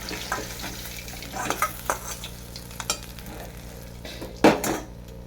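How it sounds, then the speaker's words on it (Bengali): Katla fish pieces frying in a pan, a soft steady sizzle of hot oil under scattered clinks and scrapes of a spatula stirring and turning the fish, close and fairly quiet. "মাছগুলো ভাজবো বেশি কড়া করে"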